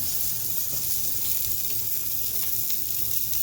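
Breakfast sausage sizzles in a skillet, a steady close hiss of frying fat with no talk over it.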